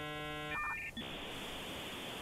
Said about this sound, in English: That's a modem sound,